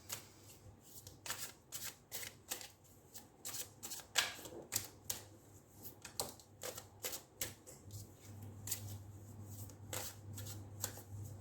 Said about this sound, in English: we'll take out 4 cards again for the same, but we'll take it out from this deck, which is the Ethereal Visions